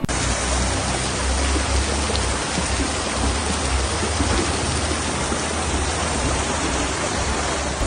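Torrential rain drums steadily and loudly on a parked camper van in Sicily during stormy weather, a dense continuous downpour with no voices.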